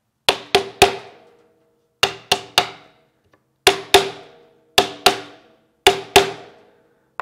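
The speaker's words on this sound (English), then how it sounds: "I'm going to go ahead and tap it into place with my hammer" A hammer taps a wooden lap desk frame into place in clusters of three sharp, close knocks, each group separated by short pauses, with no talking.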